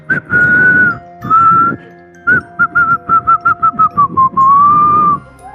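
Someone whistles a tune close and loud, with long held notes, a run of short staccato notes, then a final sustained note falling slightly in pitch. No one speaks.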